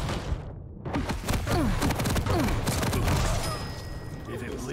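Rockets fired in a video game team deathmatch, a dense volley of booming launches and blasts that rolls on continuously under a commentator's voice.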